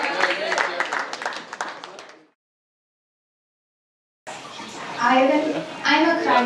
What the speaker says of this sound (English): Our next coasters are going to keep the applause going